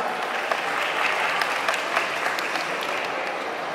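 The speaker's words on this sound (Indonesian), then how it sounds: "Boleh kasih aplaus ya Maria." An audience at a film meet-and-greet applauds steadily for an executive producer, a dense, continuous patter of many hands clapping without pause.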